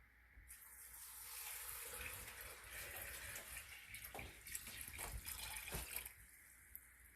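A steady stream of water pours into a crock pot of pinto beans, splashing continuously for several seconds with a few louder gurgling surges before it stops.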